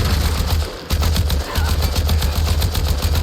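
An AK-style rifle fires in rapid, sustained automatic bursts in a video game, loud and close, with one brief pause before the rattling volley resumes.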